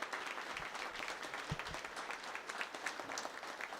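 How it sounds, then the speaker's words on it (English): Soft, distant applause rolls through the room at a veterans affairs swearing-in ceremony, a steady crowd clap with no voices over it. "Can we give them a big round of applause?"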